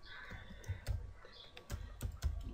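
Someone types code on a computer keyboard in a quick, uneven run of close, light key clicks with brief pauses and no talk.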